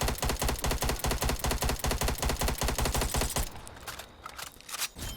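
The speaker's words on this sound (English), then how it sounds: "this is the recoil without adjusting for it, without tap firing, but this is me tap firing" Rapid gunfire from a weapon in the video game Black Ops Cold War rattles in a fast, even stream of close, loud shots for about three and a half seconds, then cuts off to quiet background.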